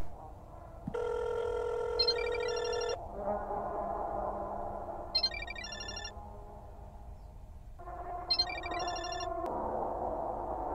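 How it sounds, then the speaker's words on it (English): A phone ringtone in the video game Parasocial repeats as a melodic electronic chime in several separate bursts, fairly loud over a steady low ambient hum, with no voices. "Asuka's ringtone?"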